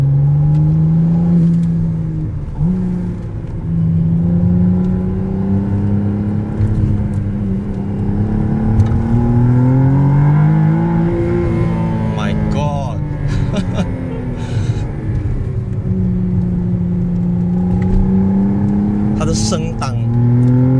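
A McLaren Artura V6 hybrid pulls hard in Track mode, engine note climbing through the revs with gear changes marked by pitch drops, loud and close from inside the cabin, with a voice heard over it.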